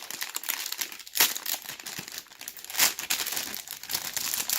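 Crinkly plastic wrapping is pulled and crumpled off a bulk-packaged Seagate ST2000DM006 2TB 7200 RPM hard disk drive, continuous close rustling with a few sharper crackling bursts and no talking.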